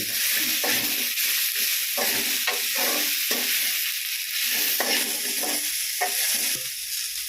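Greens being sautéed in a pan while cooking pickle, giving a steady close sizzle with repeated scraping stirs that come in an uneven rhythm, and no talking.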